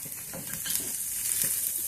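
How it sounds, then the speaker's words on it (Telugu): Onions and frozen peas fry in a pan for oats upma, a dense bright hiss of oil with soft scraping stirs underneath, steady and close. "ఇప్పుడు వేగినాయి ఉల్లిగడ్డలు. ఇప్పుడు ఫ్రోజన్ బఠానీ"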